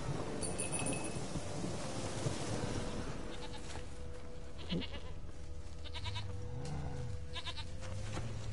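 Goat bleats ring out in The Witcher 3: Wild Hunt over a constant bed of game ambience, with several short wavering cries spread across the middle and later part of the scene, moderately loud.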